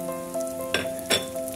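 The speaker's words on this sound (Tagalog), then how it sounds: "And igisa na natin yung bawang." Garlic sautés in oil with a brief, bright sizzle and two quick scraping stirs close by, over a faint steady hum.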